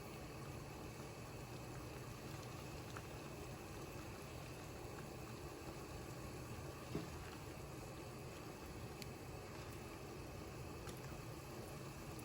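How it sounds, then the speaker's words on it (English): A pot of water with leaf litter in it is coming to a boil. It gives a low, steady bubbling and hissing rumble that keeps going evenly, faint and unbroken, with no speech over it. "It's finally starting to boil."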